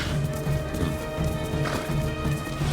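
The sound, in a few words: horse hooves in Ghost of Tsushima video game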